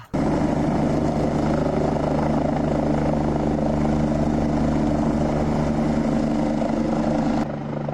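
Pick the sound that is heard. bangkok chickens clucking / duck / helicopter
helicopter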